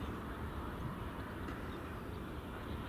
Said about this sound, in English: that's EasyJet A319 off to Gatwick